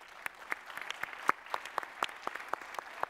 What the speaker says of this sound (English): So round of applause for Sana.